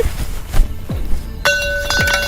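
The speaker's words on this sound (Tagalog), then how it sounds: "Nahulog ko pa yung takip." A pot lid falls and clatters with bright metallic clinks, a few sharp impacts followed by ringing tones in a quiet kitchen setting of a pares eatery.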